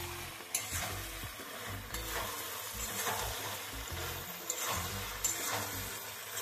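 Pieces of fried chicken stirred in a hot pan for homemade dry chili chicken, with a steady sizzle and repeated scraping and clanking from the spoon throughout.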